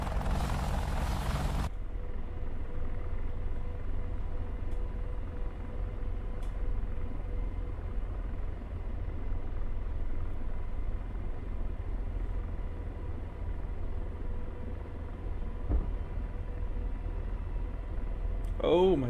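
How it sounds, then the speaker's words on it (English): Rotor and turbine roar of an AH-64D Apache helicopter spinning up for takeoff in the DCS flight simulator, a steady loud low drone with mechanical whine holding throughout, a brief burst of noise at the start. "This is my first takeoff in the Apache."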